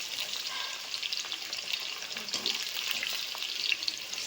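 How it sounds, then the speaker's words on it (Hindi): Okra (bhindi) fries in a pan with a dense, continuous sizzle and crackle, heard up close and steady with no talking. "भिंडी हमारी फ्राई हो रही है"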